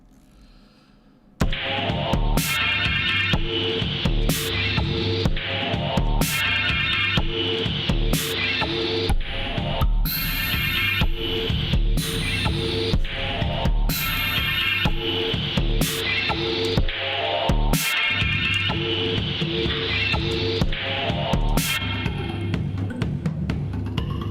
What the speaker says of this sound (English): let's change it to a phaser. And maybe we'll change the reverb dramatically